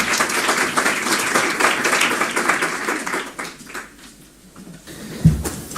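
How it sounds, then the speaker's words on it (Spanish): An audience at a digital health association conference claps together in a burst of applause that fades out after a few seconds, followed by a faint bump. "Un aplauso."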